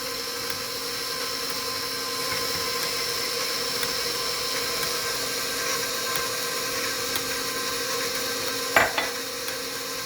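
A mixer runs on slow through banana bread batter with avocado oil and whole milk, giving a steady, even motor whir throughout and one brief clatter near the end, with no talking.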